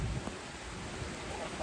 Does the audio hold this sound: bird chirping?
no